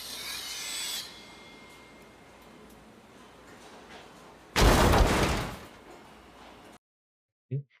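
A knife sound effect from the visual novel Tsukihime gliding through a bed: a soft, grainy rasping scrape runs beneath a steady hiss, then a loud, harsh cutting burst lasts about a second before everything fades to silence.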